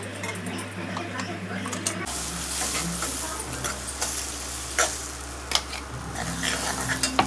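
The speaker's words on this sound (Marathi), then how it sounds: "आता त्याच्यात हे केवल्याचं वाटलेलं हे टाकायचं" Ground kevla paste hits hot cooked masala for kevla amti with a sudden loud sizzle, followed by continuous frying hiss and scraping stirring sounds in the pan.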